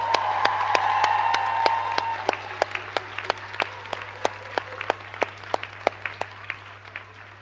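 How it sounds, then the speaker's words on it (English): Applause from a crowd at a university graduation ceremony, dense at first with some cheering, then thinning into scattered individual claps that taper off. "Please, let's give them a huge cheer and round of applause."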